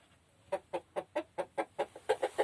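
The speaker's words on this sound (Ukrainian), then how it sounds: "Молодесенький півничок, такий гарненький" A young rooster gives a steady run of about ten evenly spaced clucks, close and fairly quiet, in a backyard poultry yard with no talk over it.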